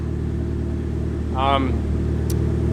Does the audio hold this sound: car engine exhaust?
yes